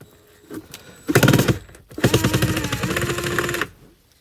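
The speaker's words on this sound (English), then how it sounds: "So I'm gonna try to unscrew part of the box." A powered screwdriver or drill spins screws loose from the cabin air filter box of a 2004–2008 Acura TL, in two close whirring bursts after a quiet start.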